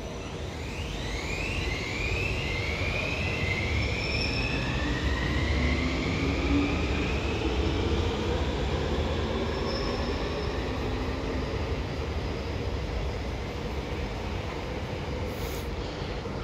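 An Amsterdam metro train, a CAF S3 unit, rolls past with a sustained rumble and rising, sweeping wheel squeals, moderately loud and without voices.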